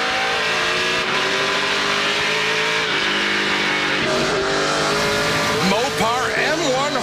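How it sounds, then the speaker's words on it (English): NASCAR Pinty's Series stock cars with spec engines roar at full throttle in a continuous, loud, droning race-pack blare, with pitch shifts as they rev and downshift. A commentator talks over the engine noise. "Now we're listening to spec engine horsepower."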